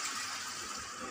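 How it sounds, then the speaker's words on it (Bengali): Water pours from a bowl into a pot of simmering chicken curry, a brief close splashing gush that holds steady throughout. "এটার 1 বাটি আমি জল দিলাম।"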